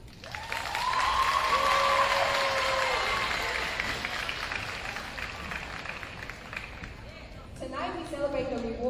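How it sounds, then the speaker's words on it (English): Applause from high school seniors at a class night ceremony swells into steady clapping and crowd noise for several seconds, then fades under a brief voice near the end. "Seniors, would you please take a moment to give a round of applause to all those who have supported you near and far"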